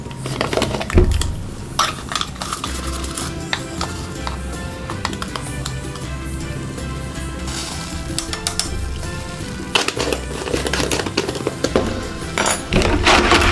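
Continuous clinking and scraping of a utensil stirring martabak manis batter in a bowl, steady and busy, with occasional sharper metallic taps, close by.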